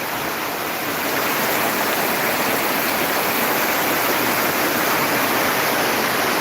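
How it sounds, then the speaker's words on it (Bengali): Torrential downpour during a heavy rainstorm in Tripura, a dense steady roar of pouring rain, loud and unbroken throughout, with no voices. "প্রচণ্ড বৃষ্টি এরকম বৃষ্টি আমি কোনো সময় দেখিনি"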